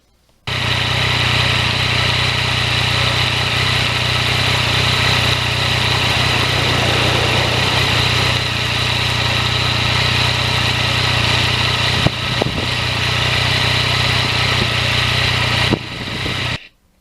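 A Yamaha MT-09 three-cylinder crossplane motorcycle engine hums steadily and close on a spring ride, a sustained even drone with a couple of brief bumps before cutting off.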